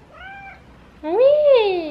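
A cat meows twice nearby, a short soft call followed by a louder, longer drawn-out meow, with a brief word spoken in between.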